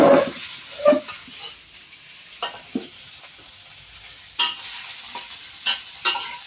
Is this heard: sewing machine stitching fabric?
no